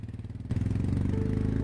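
Motorcycle engine running while riding through Zanskar: a steady, throbbing low-pitched drone that grows louder and fuller about a third of the way in, then holds an even pulse, close and continuous with no talking.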